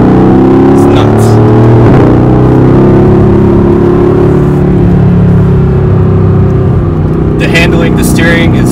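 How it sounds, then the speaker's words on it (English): A Mercedes-AMG GT R with a twin-turbo V8 drives on a race track, its loud engine droning close up with rising and falling pitch as it revs and shifts. "the noise of the car"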